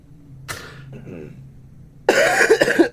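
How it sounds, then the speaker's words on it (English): One person coughs several times in a harsh, throaty burst near the end, after a short stretch of quiet voices and a brief earlier noise. "Sorry, terrible cough."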